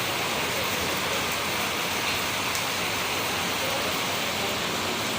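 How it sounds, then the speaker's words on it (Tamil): Heavy rain pouring down in a dense, constant hiss, loud and close throughout, with no break or talking. "மழை ஜாஸ்தி பெய்ய ஆரம்பிச்சிருச்சு"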